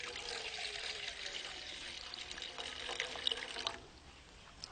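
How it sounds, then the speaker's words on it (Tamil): A tumbler of water poured into a pot while preparing a herbal decoction, a soft steady splashing pour lasting a few seconds before stopping, quiet and close. "1 டம்ளர் தண்ணி ஊற்றிக்கிறோம்."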